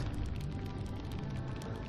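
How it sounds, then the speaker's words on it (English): Steady rain shower pouring down in the video game Burly Men at Sea, a dense continuous wash of patter with scattered brighter drops, moderately loud and alone. "On cue, a shower rain tumbles over them."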